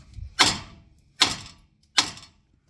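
Three sharp metallic taps strike the steering knuckle of a 2004 Saab 9-5 Aero wagon to free the outer tie rod end. The hits are evenly spaced, loud and close, and each one rings briefly before fading.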